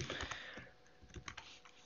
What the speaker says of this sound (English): I can't type today.